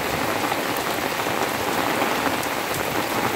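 Rain pours steadily onto Colocasia plants outdoors, a dense, constant hiss of drops with no pauses, loud and close.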